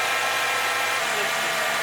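Nissan 350Z engine held at a high idle after an oil cooler leak repair, giving a steady, even hum with a low vibration and no change in pitch.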